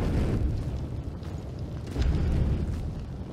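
Fire igniting for a crypt ritual in a video game, heard as a dense, loud, low roaring whoosh that runs continuously and surges again partway through.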